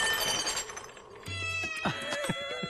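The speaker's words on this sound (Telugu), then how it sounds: "పుర్రిని చూసి భయపడ్డావంటే ఓకే, పిల్లిని చూసి కూడానా?" A cat meows a few times, with rising and falling tonal cries in the second half over a faint background hum and a brief low tone.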